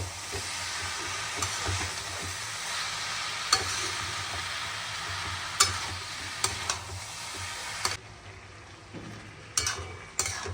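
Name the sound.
banana flower frying and stirred with spices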